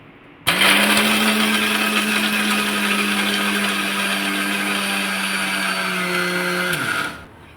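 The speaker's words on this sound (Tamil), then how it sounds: "இது ரெண்டையுமே நல்லா அரைச்சிக்கிட்டதுக்கப்புறமே நம்ம நாட்டு சர்க்கரையை போட்டு அரைக்கணும்" A kitchen blender grinds ingredients together with country sugar, a loud steady motor whine that starts abruptly, holds an even pitch for several seconds and then spins down.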